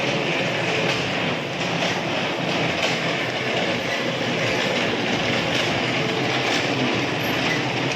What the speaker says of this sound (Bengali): আমাদের স্টার্টার ট্রেনে আসছে দেখো